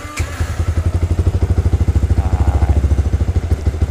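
A motorcycle fitted with a Juken 5 carburetor chugs in a rapid, steady low thumping rhythm up close, loud and uneven, fading toward the end as the engine dies; a brief spoken word comes at the start.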